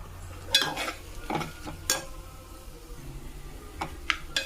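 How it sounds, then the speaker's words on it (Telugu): Green chillies and two garlic cloves fry in a pan with a soft, steady sizzle, broken by several sharp clicks and scrapes of a spoon against the pan. "ఇక్కడ ఇందులో పచ్చిమిరపకాయలు అలాగే 2 వెల్లుల్లిపాయలు వేసుకొని బాగా వేగనివ్వాలి."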